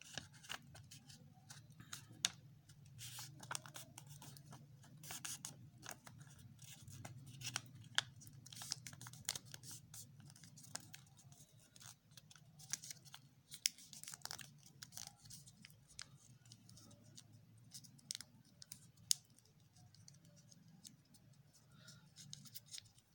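A sheet of paper being folded by hand: faint, close crinkles and soft crisp rustles come in irregular bursts over a quiet background hum.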